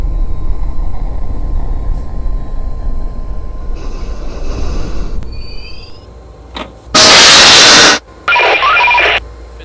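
Train running in the OpenBVE rail simulator, a steady low rumble of wheels and motors that ends in bursts of loud, harsh broadband noise near the end, with no voices.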